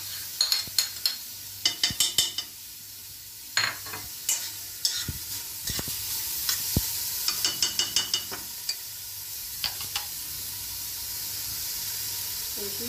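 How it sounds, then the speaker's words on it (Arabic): Chopped onion sizzling in melted butter in a pan, a steady hiss under repeated sharp clicks and scrapes of stirring, close and fairly loud. "غنديرو ملعقه ديال الزبده كما كتشوفوا معايا. غنزيدو عليه هاد البصله المفرومه"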